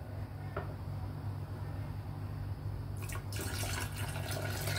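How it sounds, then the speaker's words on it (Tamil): Plain water is poured into a glass for iced coffee: a few seconds of quiet background hum, then a close, steady splashing pour that continues to the end. "இதுக்குள்ளே வந்து கொஞ்சமாக நார்மல் தண்ணி ஊற்றிட்டு"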